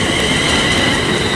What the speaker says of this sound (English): arriving now is the delayed 1104 London North Western Railway service to Liverpool Lime Street at 350 103